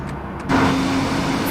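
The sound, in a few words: Boeing 787-9 jet engines in the video game FSX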